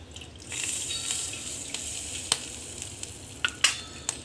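Milk poured into melted ghee in a pan on the stove gives a soft, steady sizzle with a few sharper pops and spatters toward the end, close by and without speech.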